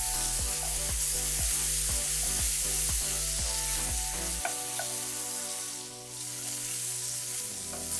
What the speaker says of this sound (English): I like to pan sear my salmon for the most part.